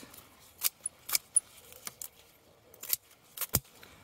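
Garden shears cut through a spent plant in a vegetable garden: a handful of sharp, separate snips and clicks, close and fairly crisp, with quiet gaps between them and no talking.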